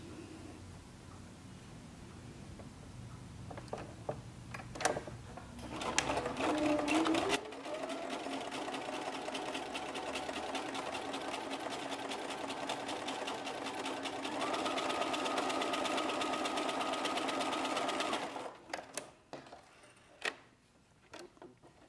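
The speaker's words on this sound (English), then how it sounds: "I'm just using a straight stitch." A sewing machine runs steadily, straight-stitching a single-fold hem on stretchy swim fabric, a continuous whirring buzz that speeds up midway and stops near the end with a few clicks.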